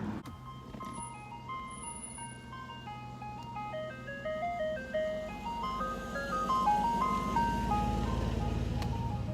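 An ice cream truck plays its tinkling melodic jingle, a steady stepwise tune of chime-like notes that grows louder as the vehicle approaches, with engine rumble rising underneath toward the end.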